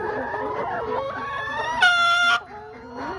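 Several laying hens in a coop of 40 cluck and warble close by, with one loud, drawn-out crow-like call rising above them briefly before the clucking resumes.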